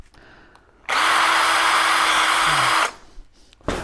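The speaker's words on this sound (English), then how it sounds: "I'm going to go with the drilling." A power drill whirs loudly and steadily for about two seconds while drilling holes for a Land Rover Defender winch installation, starting and stopping abruptly, with quiet room noise before and after.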